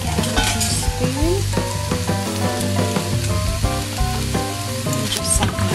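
Mince frying in a pan for a lasagne, broken apart with a small spoon: a loud, continuous sizzle and crackle with scraping, over steady background music.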